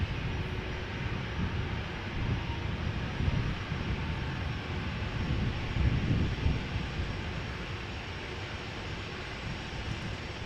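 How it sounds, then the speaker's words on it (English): KLM Boeing 737-800 taking off with a rolling start at Amsterdam Schiphol Airport: a continuous rumbling jet roar at some distance, fairly even with slight surges, no voices over it. "KLM flight 1079, going to Manchester, 737-800, turn and burn, rolling start."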